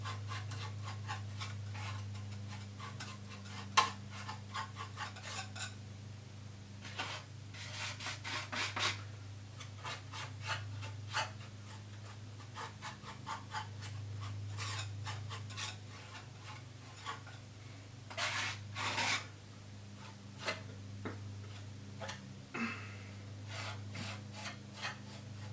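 A palette knife scrapes paint across canvas in short, irregular cross-hatching strokes, close and quiet, with a steady low hum underneath and no talking.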